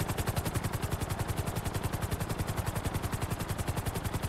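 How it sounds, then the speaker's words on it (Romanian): Helicopter in the video game GTA, a loud, steady rapid rotor chop with rhythmic pulsing beats throughout, close and continuous with no voices. "Țineți-vă bine de alea acolo, că elicopterul ăsta e mai agresiv așa de fel."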